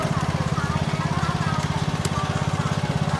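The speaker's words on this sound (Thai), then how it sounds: "ช่างกุ้งรบกวนโชว์เลื่อยหน่อยได้ไหมครับ" A small motor-driven saw runs steadily nearby with a fast, pulsing mechanical chatter, holding an even pitch and volume throughout.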